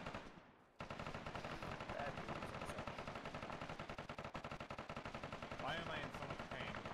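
Sustained automatic gunfire from a military video game firefight, dense rapid bursts rattling continuously at close range after a brief quiet start, with occasional voices underneath.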